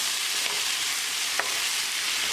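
A pan of Japanese kabocha squash being stirred as it cooks, with a steady sizzling frying hiss throughout and one brief scrape of the utensil near the middle.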